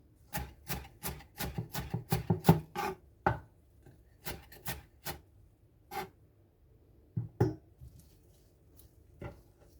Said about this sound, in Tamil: அந்த ஒரு பிடி கொத்தமல்லி வந்து நல்லா நம்ம வந்து கட் பண்ணி வச்சுப்போம்